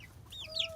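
A backyard mother hen that helps raise young chicks gives a few soft, close clucks, the last rising into a short higher call, no talking.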